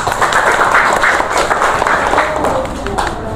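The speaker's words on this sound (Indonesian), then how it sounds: "Tepuk tangan buat kalian semua" A small group in a class session claps for one another, a steady, fairly loud patter of hands that holds throughout with a faint voice in the mix.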